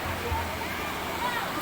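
Strong river current rushes in a steady, broadband roar, close and continuous, with no breaks in the flow.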